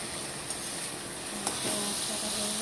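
Fish frying in a pan, with a steady close sizzle and occasional stirring clicks running throughout, no voices.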